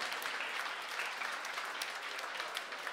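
Thick, continuous clapping from a crowd at a televised show, loud and even with no pause.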